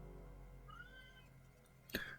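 A cat in a Metroid Prime 4 game scene gives a short, faint meow, followed near the end by a sharper, louder cry over low background hum.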